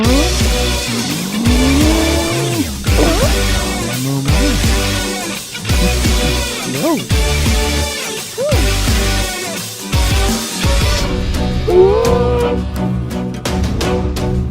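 A race car's engine howls loud and close on the final lap of a racing game, with rising and falling revs and squealing tires through the corners, alone without any talk.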